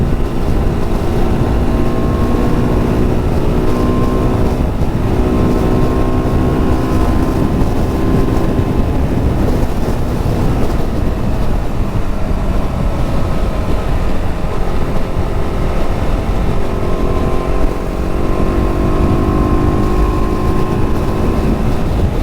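A steady roar of about 30 motorcycle engines riding together on a group ride from Bengaluru to Vathal Malai Hills, overlapping whining tones rising and falling continuously, with no voices.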